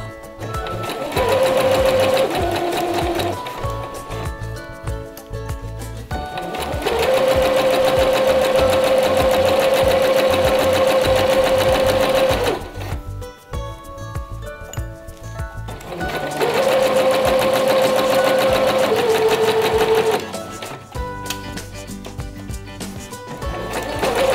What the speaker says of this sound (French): Commencez votre couture par quelques points en marche arrière. Continuez en marche avant. Vous devez coudre à 5 mm du bord.